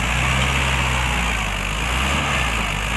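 Several tractors straining to haul loads of soil in a power contest, a loud steady diesel engine drone with deep low rumble running continuously throughout, no talk.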